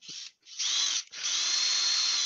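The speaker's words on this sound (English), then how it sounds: "4 mil drill." A 4 mm bit in a power drill bores into a wooden workpiece: a brief whine, a short pause, then a steady high-pitched drilling run, close and alone with no talk.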